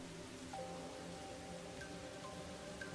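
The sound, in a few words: rain in video game Master Detective Archives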